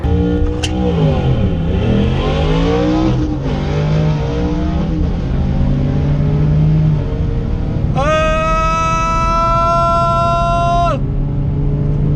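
Lexus IS 300 accelerating hard on a quarter-mile drag run, a loud, steady engine roar climbing through gears with rising and falling tones, ending in a sustained high whine near the finish.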